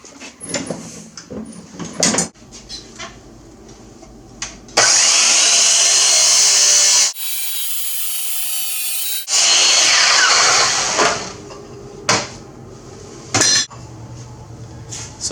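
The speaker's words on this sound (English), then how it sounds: "So I just cut this piece off." A piece of steel unistrut being cut with a power tool while fitting a taller lift kit on a Poulan mower, a loud harsh grinding in two long bursts separated by a quieter motor hum, with scattered clanks and handling noises around them.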